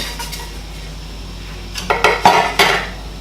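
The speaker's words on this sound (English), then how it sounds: "the rest is just to wash off my plates and stuff like that" Plates, pots and cutlery being washed in a home kitchen: a quiet start, then a run of loud clattering knocks and clinks of dishes knocking together near the end.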